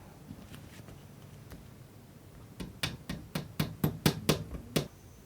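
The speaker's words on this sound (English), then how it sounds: "And then you just hammer into place." A draft-proofing strip is hammered into place on a sash window: after some quiet handling noise, about nine crisp, close hammer taps come in a steady, quickening rhythm, each one louder than the soft background.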